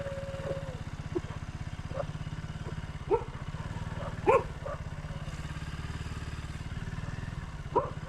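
Dogs give several short, sharp barks scattered over the steady low drone of a motorcycle engine during a night ride, the barks fairly faint against the running engine.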